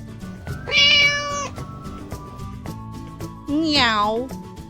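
Two distinct cat meows ring out clearly, the second longer and wavering, with faint background sound between them.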